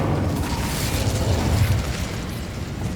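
The Incendio fire spell cast in Hogwarts Legacy, a dense, loud whooshing burst of flame that roars steadily for about three seconds with a rumbling low end and no talking.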